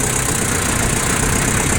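Garden mini tractor with a front-mounted implement, its engine running steadily and loud throughout with a dense, even mechanical drone and no talk over it.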